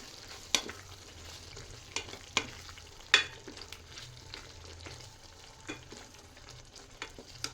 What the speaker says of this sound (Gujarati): મેં હલાવી લઈશું